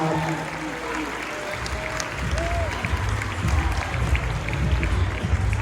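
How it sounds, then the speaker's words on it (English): A crowd at a West Coast Swing dance competition applauds the dancers in a steady, fairly loud wash of clapping and crowd noise, with some voices and a low background hum underneath. "how about a round of applause for these dancers?"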